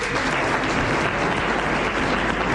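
Studio audience at a 1988 French television game show applauding a contestant, a loud, dense, continuous burst of clapping from a large crowd filling the whole stretch.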